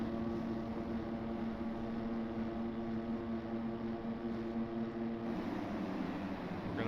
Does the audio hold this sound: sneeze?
no